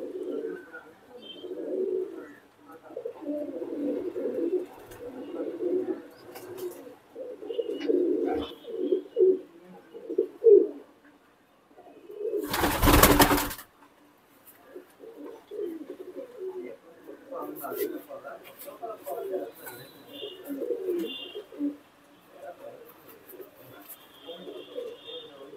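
Fancy pigeons kept by a hobbyist in R.S. Pura, Jammu, coo steadily in soft, low, overlapping phrases, broken by one sharp loud burst midway, with someone speaking at times.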